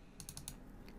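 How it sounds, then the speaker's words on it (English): Mouse double-click while launching a Windows 10 installer on a computer: a few quick, crisp clicks close to the mic in an otherwise quiet room, followed by faint desk noise. "double-click the installer"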